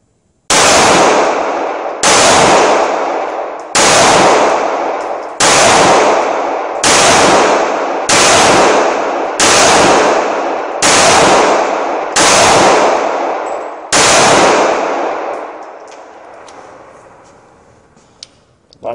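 Taurus PT111 pistol firing outdoors, about ten loud, sharp shots spaced roughly a second and a half apart, each followed by a ringing decay, then a quieter tail with small clicks.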